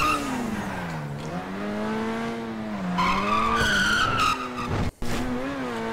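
Tires squeal in a long skid as a car slides around a corner in GTA V, the screech bending up and down over a droning engine for several seconds before a brief cut and more squealing.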